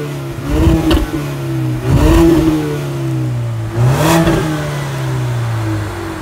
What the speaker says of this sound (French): On entend plus le bruit du moteur à l'avant que le bruit des pots d'échappement